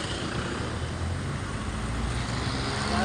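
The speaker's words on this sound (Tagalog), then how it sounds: "Delikado dito, maraming sasakyan." Busy roadway with many cars and trucks passing, a continuous loud rumble of traffic close by with no distinct breaks, no voices.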